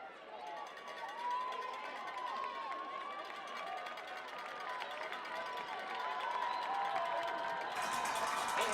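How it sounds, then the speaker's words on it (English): A high school varsity football home crowd cheers and shouts at a distance, a steady rising roar with an announcer talking over it. "The Braden River crowd is getting into it"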